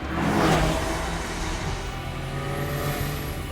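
Bugatti EB110 Supersport, a 218 mph supercar, driving past with a steady engine drone and a brief whooshing swell early on, fairly loud and continuous throughout.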